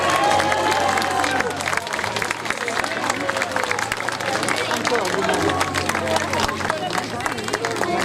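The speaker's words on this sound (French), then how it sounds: "On peut l'applaudir bien fort, Jeanne." An outdoor crowd at a Venetian costume parade in Chanaz claps for a costumed participant while loud chatter and voices continue over the applause throughout.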